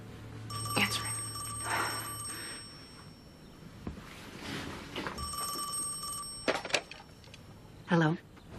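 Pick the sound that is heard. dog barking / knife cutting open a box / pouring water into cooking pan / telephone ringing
telephone ringing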